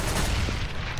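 A grenade explosion in Counter-Strike: Global Offensive, a heavy, rumbling boom that fills the whole moment with dense low noise and crackling gunfire-like texture, loud and close throughout.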